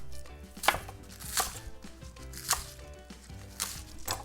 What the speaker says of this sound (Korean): 쪽파를 한 3, 4cm 정도 사이즈로 잘라줄게요